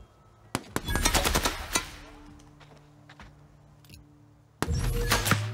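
Gunfire in the video game The Outer Worlds: rapid bursts of shots up close, a dense volley at the start, sparse single reports in the middle, then another burst at the end, with faint talk beneath.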